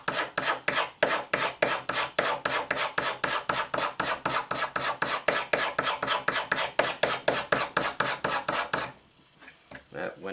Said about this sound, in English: I put a burr on the scraper, and I'm just going to start kind of coming up and removing my fine scratches on here